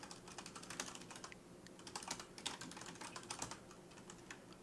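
Quiet, rapid clicking of keys as code is typed on a computer keyboard during a C# programming session, a continuous stream of light taps heard faintly at a distance.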